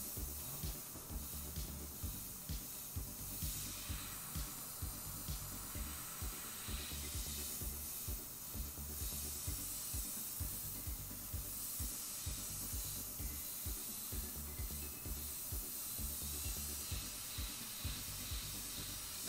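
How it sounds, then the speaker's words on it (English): An Iwata airbrush sprays paint while a battlefield cross is airbrushed, a soft continuous airy hiss with faint regular pulsing, quiet and close with no talking. "Yeah, you want the Iwata? Yeah. It's a nice airbrush."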